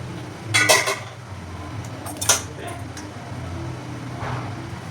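Food is served onto a plate in a home kitchen, with a few short metallic clinks and scrapes of a utensil against the dish over a quiet background hum.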